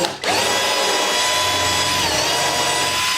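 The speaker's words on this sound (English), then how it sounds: "I'm just going to drill this hole" Power drill boring a pilot hole into a wall stud while hanging curtains, a steady high whine that starts after a brief pause and holds without letup, close and fairly loud.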